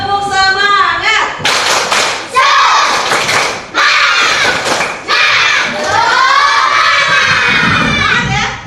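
A class of students stands and performs the tepuk semangat, a loud rhythmic clapping chant in which patterned claps alternate with shouted group chanting, close and energetic with brief pauses between phrases.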